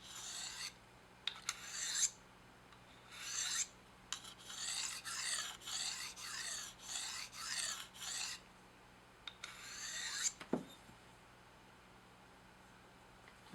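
A file or sharpening rod rasps along a serrated knife edge in short, repeated strokes: a few spaced passes, then a run of about six even strokes, then a couple more, close up with no talking.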